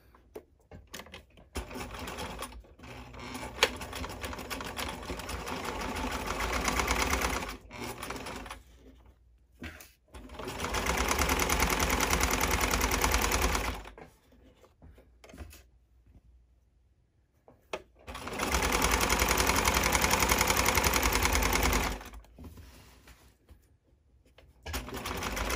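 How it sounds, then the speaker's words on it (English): A home sewing machine stitches a straight boxer seam with backstitching at the ends, the quarter-inch presser foot guiding the fabric; three bursts of steady whirring run for several seconds each, separated by quiet pauses. "I'm gonna sew straight down with back stitching on the ends."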